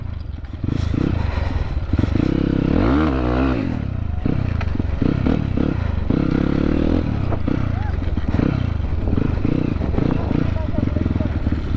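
A motorcycle rumbles steadily on a ride toward Kulekhani in Nepal, its engine droning close by with clatter from the road, while riders talk over it.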